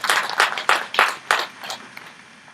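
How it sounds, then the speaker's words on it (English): Applause from an audience for workers at a Rotary Club of Portbell gathering, a handful of loud clapping bursts in the first second and a half that thin out and fade toward the end. "Let's give them a round of applause."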